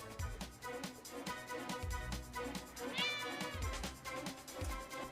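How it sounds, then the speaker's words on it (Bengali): A cartoon cat meows over a loud background music track, with one clear rising-and-falling meow near the middle of the short passage and no speech. "তাহলে বিড়াল ছিল।"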